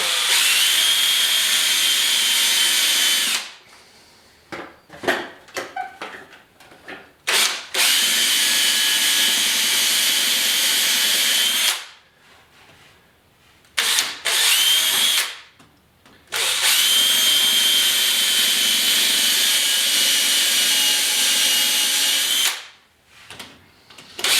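Power drill driving coarse-threaded drywall screws into plywood for a basement window jamb, several loud whirring bursts of a few seconds each separated by brief pauses and short stuttering pulses.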